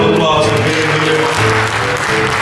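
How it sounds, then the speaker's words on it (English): Audience applause at an encore-night school drama performance, a steady dense wash of clapping that fills the whole stretch with a low musical hum underneath. "Give yourself a round of applause for being here."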